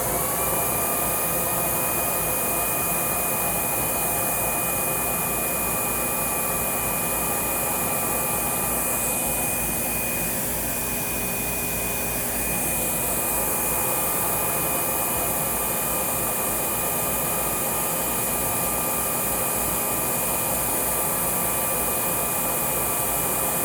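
A Windsor Versamatic Plus upright vacuum cleaner runs during a hose test, its motor a steady, loud high whine with an airy rush that dips briefly in the middle, close up and without talk.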